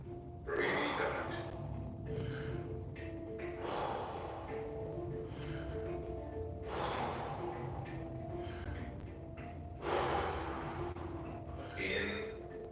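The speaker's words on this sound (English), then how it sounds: "Back into that rhythm. Breathe in. Breathe out." Deep, rhythmic yoga breathing in a guided breathing exercise: long audible inhales and forceful exhales recur in slow cycles, close to the microphone, with a steady low hum beneath.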